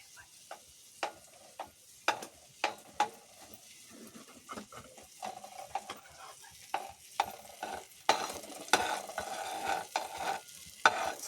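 Butter melts in a pan for a paneer masala curry while a spoon stirs it, giving soft sizzling with repeated scraping and clinking strokes that grow busier and louder toward the end.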